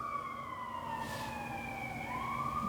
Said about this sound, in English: some sirens there